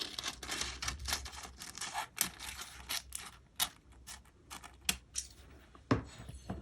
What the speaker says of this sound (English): I cutting the foil down to fit the top of the stencil.